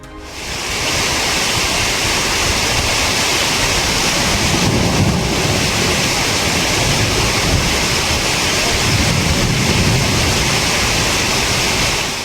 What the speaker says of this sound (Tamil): பலத்த சூறை காற்றுடன் மழை